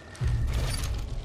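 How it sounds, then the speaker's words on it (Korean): Weapon reload in the Apex Legends battle royale game: a quick mechanical clack and ratcheting click of a magazine being swapped, loud and close, with no talking. "장전 중."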